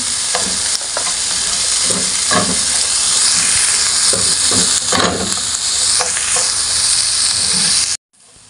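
Chowfan fried rice being stirred in a hot pan with vegetables and eggs, a loud steady sizzle and hiss broken by repeated scraping stirs, close up with no talk, cutting off abruptly near the end.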